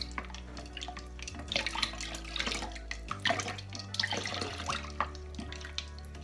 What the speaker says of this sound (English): And also we're going to be adding the cold water.